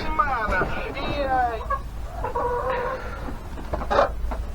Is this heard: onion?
no